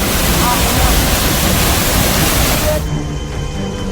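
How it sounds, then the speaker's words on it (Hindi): Heavy water gushing down a waterfall swollen by continuous rain, a loud, dense broadband roar filling the clip before dropping off abruptly near the end. "लगातार हो रही बारिश से झरने से बेतहाशा पानी गिरने लगा।"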